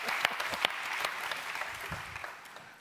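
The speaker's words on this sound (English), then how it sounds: "please give a big round of applause for our model who is actually brushing like a champion" An audience claps warmly for a model brushing her teeth during a live connected-house demo at a trade fair stage. The dense applause builds quickly, holds with scattered sharp claps, then thins out over a few seconds.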